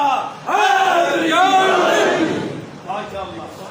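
A large crowd at a Meelad un Nabi religious conference shouts religious slogans in unison, loud overlapping voices surging in answer to a leader's call, then a second shorter burst of chanting.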